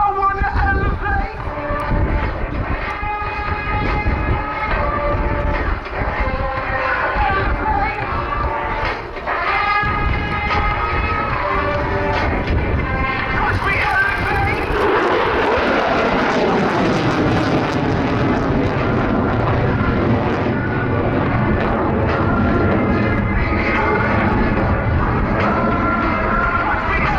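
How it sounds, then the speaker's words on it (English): An F-16 Viper fighter jet at an airshow pulls into a climb with aileron rolls from about 300 feet, its engine roaring loud and steady before the tone sweeps and fades as it climbs away, while an announcer talks over it. "As he pulls back on the stick, you'll see the Viper's exceptional power and rolling ability as he sends it from 300 feet to over 3 miles"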